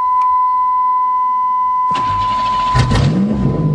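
A 1990 Buick Century engine cranks and catches after a battery install, settling into a running rumble with a revving swell, following a steady electronic warning tone.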